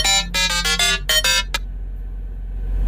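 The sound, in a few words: phone ringtone ringing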